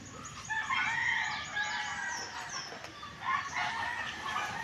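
Chickens cluck and a rooster crows at close range, with overlapping bird calls and some wing flapping running through the whole stretch.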